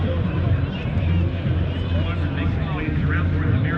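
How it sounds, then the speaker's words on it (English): Vans Aircraft stunt plane in Navy livery flying at the Wings Over Solano air show, a steady loud engine drone with crowd babble mixed in throughout. "Probably a stunt plane of some kind with a pretty lady on the side."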